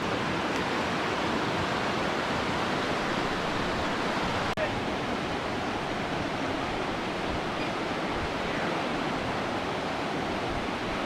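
A river running high after hot weather rushes steadily, a dense, unbroken roar of fast water close by that stays loud and even from start to finish.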